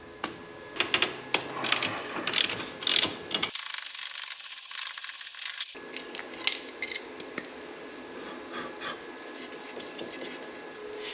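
A ratchet wrench tightens the frame cap bolts on a Can-Am Spyder F3, giving quick clicking bursts with a few metallic taps, fairly close and quiet, broken by a brief burst of hiss.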